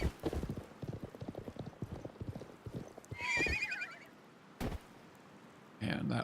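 In the video game Live A Live, a horse gallops with rapid rhythmic hoofbeats, then gives a sharp, high neigh, followed by a couple of short game sound effects.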